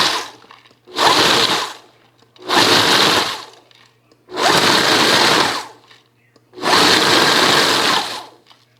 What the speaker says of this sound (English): we're going to start by pulsing these and get these kind of broken up just a little bit